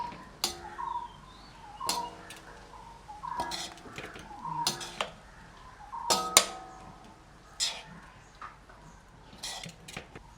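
A metal spoon stirs vegetables in a pot, knocking against the rim in ringing clanks roughly every second or so between quieter scraping, close by.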